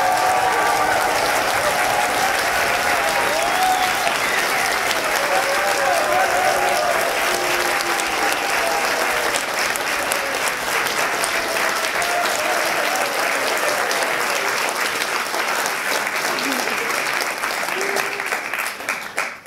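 Audience applause at a university poetry slam as a performer is called up, long sustained crowd clapping with faint voices underneath, tapering off at the end.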